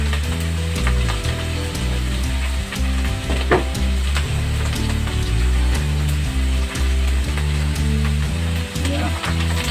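Second squeeze of coconut milk poured over taro leaves in a pan for Filipino ginataang laing, giving a steady, close sizzle and bubbling with light stirring scrapes, loud and continuous throughout, no talking.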